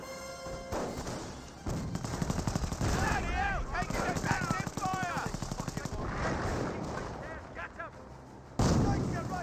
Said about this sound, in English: Rocket grenades firing away.